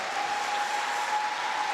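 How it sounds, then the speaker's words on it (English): Steady crowd applause from spectators at the World Mixed Doubles Curling Championship gold medal game, a continuous even wash of clapping with a faint steady tone running through it. "at the same time as the applause for the China-Czech Republic comes"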